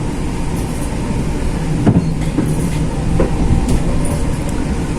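An economy-class carriage of the KA Majapahit train rumbles along slowly, with faint creaks and occasional clanks over a steady low rolling noise.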